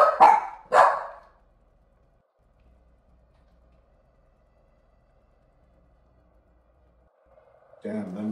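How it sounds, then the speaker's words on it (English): Dogs in the video game Far Cry 6 bark in two sharp, close bursts, then fall quiet for several seconds before another loud bark erupts at the end. "them dogs are growling."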